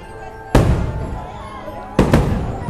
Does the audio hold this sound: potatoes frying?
no